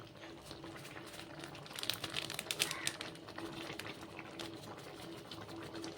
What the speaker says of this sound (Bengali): ভালো করে বয়েল হয়ে যায় এবং ঘুগনিটা উতলে যায়